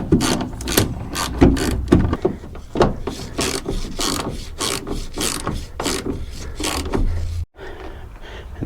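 Ratchet clicks rapidly and continuously while screwing in a tail light on a 2005-2021 Nissan Frontier, loud and close with a steady rhythmic pawl chatter that stops abruptly near the end.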